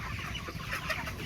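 Broiler chickens about 45 days old, in a provincial backyard, clucking softly in a continuous low flock murmur, close by with overlapping calls.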